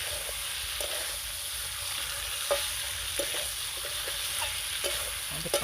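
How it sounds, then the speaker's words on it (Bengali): Fried potatoes tossed with spices in a hot pan over a wood fire, giving a continuous sizzle and frying hiss with faint scraping stirs; no voices. "এবার ভেজে রাখা আলুগুলো দিয়ে একটু কষা করে নেব, তাহলে মশলাগুলো লাগবে গায়ে।"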